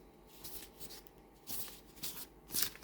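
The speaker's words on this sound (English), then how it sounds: "Let's have a look at the shuffle." A tarot deck being shuffled, soft riffling and papery flutters in a few quiet bursts, close and faint, with no voices.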